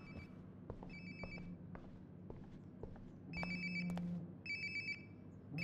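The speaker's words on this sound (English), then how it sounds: "Sounds like my phone is definitely nearby." A phone ringtone in Life is Strange: Before the Storm chimes in repeated bursts nearby, growing louder toward the end, with soft in-game footsteps and ambient rumble between rings.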